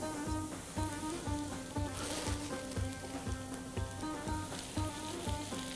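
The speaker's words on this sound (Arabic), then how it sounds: "رح نسحب السبانخ سوتي او هيك تنزيف صغيره مع البصل والثوم" Spinach sautéing with onion and garlic in a pan gives a continuous hissing sizzle, broken by regular knocks and scrapes of tossing and stirring, close and fairly quiet, with no voices.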